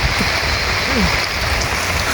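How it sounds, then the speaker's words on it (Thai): Rain falls on a hillside campsite in Thailand, a steady broadband wash of drops over the ground and gear, with people talking over it. "พอดีเลยท่ามกลางสายฝน"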